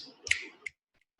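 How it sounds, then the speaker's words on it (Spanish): Fingers snap around both ears: two crisp, close snaps in quick succession, the second a little softer, followed by silence. "Simplemente vamos a utilizar chasquidos alrededor de nuestras dos orejas."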